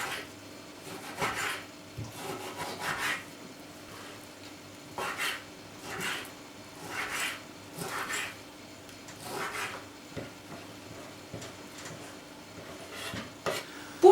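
A knife chops skinned pork cheek slices into small pieces on a board, giving a run of short, close, uneven cutting knocks that come in bursts with brief pauses, alone and with no talking.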